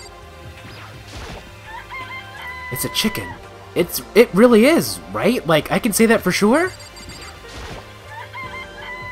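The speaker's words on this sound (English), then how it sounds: "It's a chicken. It's really alive, right?" Chicken clucking from a Danganronpa video game scene, with faint repeated bird calls early and late, while someone talks loudly over the middle of the clip.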